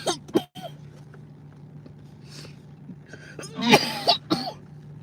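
Two quick coughs, a quiet pause with a faint hum, then a harsher burst of coughing and throat clearing nearby.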